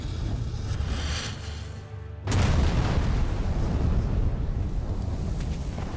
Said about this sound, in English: Suddenly, you are deafened by an explosion.